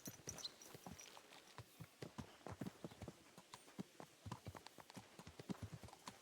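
A brown horse's hooves clip-clop steadily on the ground in Kingdom Come Deliverance 2, giving a quick, even rhythm of sharp, close hoofbeats that runs the whole way through at a low level.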